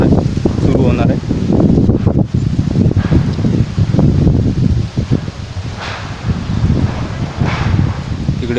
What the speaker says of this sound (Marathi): इकडे पत्र्यांचा आवाज वाऱ्यामुळे, वारा जोरदार सुरू आहे.